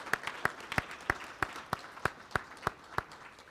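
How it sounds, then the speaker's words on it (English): Scattered, sparse clapping for departing council members at an annual meeting, a few hands striking in a slow, fairly regular rhythm of distinct claps over a quiet room. "I'd like to offer a round of applause to Brandon and Dennis and Liz and Julie."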